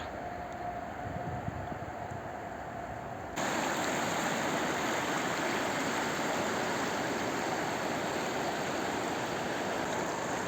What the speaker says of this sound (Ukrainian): на фоні тої апокаліптичної річки